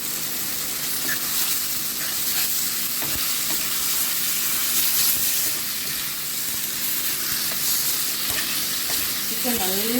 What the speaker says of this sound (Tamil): சிக்கன் நல்லா வதக்கி சிக்கன்லேயும் எண்ணெய் பிரியணும்.